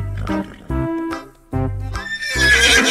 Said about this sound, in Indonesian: Wow, lihat, ternyata yang ini hewan kuda